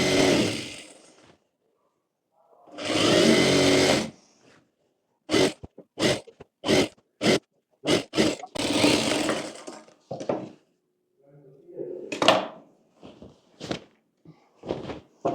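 A sewing machine stitches pleats into a blouse in bursts, one long run near the start, then a string of short quick runs separated by pauses, close and loud with no speech.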